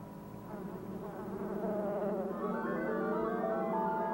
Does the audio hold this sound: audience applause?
no